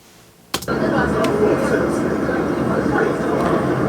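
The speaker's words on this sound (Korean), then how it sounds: "지금은 시끄러운 지하철 환경을 한번 만들어봤습니다" Loud, dense rumble of a simulated subway environment, starting abruptly after a brief quiet moment and holding steady throughout, with a couple of sharp clanks near the start.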